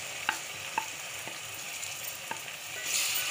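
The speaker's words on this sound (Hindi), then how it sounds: "तो अब हम इसमें टमाटर शामिल कर देंगे।" Tomatoes frying in a pan with ginger-garlic paste for aloo tahari, a steady close sizzle broken by several sharp scrapes and clicks of a spoon stirring, with no talking.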